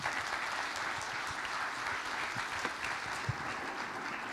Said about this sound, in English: Another big round of applause for Chair Representative Mark Maloney for his touching story